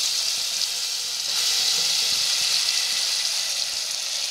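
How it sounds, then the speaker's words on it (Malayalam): Blended pineapple hits hot ghee in a pan while making Kerala pineapple payasam, giving a steady, fairly loud sizzle that swells slightly after the first second and holds without a break. "ഇതിലേക്ക് നമ്മൾ മിക്സിയിൽ അടിച്ചു വെച്ചിട്ടുള്ള ഈ പൈനാപ്പിൾ ഇട്ട് കൊടുക്കാം"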